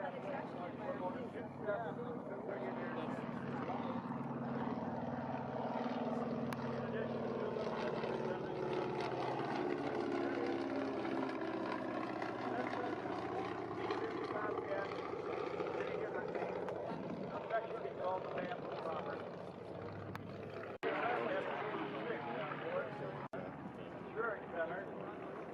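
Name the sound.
Bamboo Bomber aircraft flying at Oshkosh AirVenture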